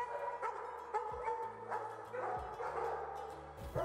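Excited hunting dogs bark and yip before a pheasant hunt in South Dakota, with repeated sharp barks overlapping at an eager, irregular pace alongside a low steady hum.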